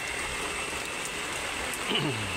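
Steady rain falls outdoors as a continuous, even hiss, with a brief soft knock near the end.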